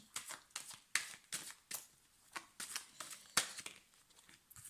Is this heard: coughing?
no